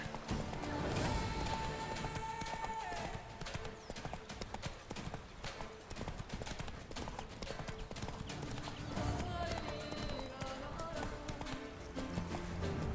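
Roach, a horse in The Witcher 3, gallops in fast, rhythmic hoofbeats that drive on without pause, mixed with a whinny, game music and a voice talking over the run.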